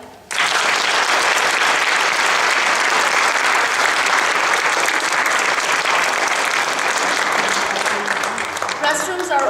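Sustained audience applause fills a concert space at St. Bernards, starting abruptly and staying loud and dense throughout, with some vocal sounds faintly mixed in near the end.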